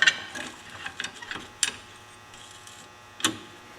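A clamp ratchets against a brake caliper piston on a Polaris Ranger 500, pushing it back with a few sharp clicks and scattered small metallic creaks, close and fairly quiet, no talking.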